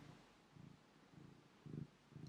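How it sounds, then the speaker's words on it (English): A cat purrs close by in soft, rhythmic low pulses, about five breaths' worth of steady purring, quiet throughout with one slightly stronger swell near the end. "You already purring?"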